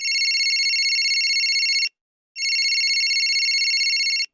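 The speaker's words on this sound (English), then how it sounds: "Suddenly, my phone rang." A phone rings loudly and close by in two steady electronic bursts, with a brief gap of silence between them and no other sounds.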